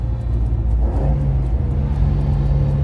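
Alfa Romeo Giulia Super engine revving hard, a loud, close, rumbling mid-pitched drone that rises and holds steady while the car is driven, with no voices.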